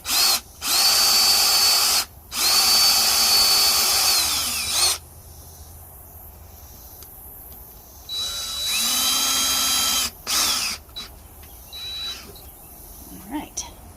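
Power drill boring into a base for a Dollar Tree Halloween mini tree, whining loudly in two long bursts, then a shorter run and a few brief trigger pulses at close range, with no talk.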